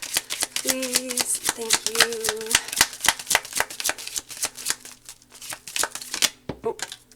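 Tarot cards are shuffled in a rapid run of crisp riffling flicks that fills most of the stretch, close and steady, while someone speaks briefly over it.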